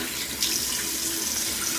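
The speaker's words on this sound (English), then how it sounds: "So I'm going to start off with getting the water warm, I guess." Steady tap water runs into a bathroom sink, a continuous close hiss and splash with slight swells, alone without voices.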